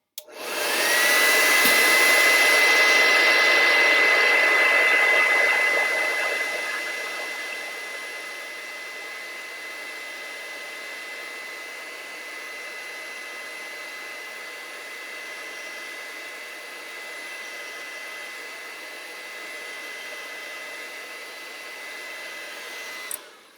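A hair dryer blows on wet paint on a painting, a loud steady whirring hiss that starts abruptly, eases to a lower setting after a few seconds and runs on alone until it clicks off.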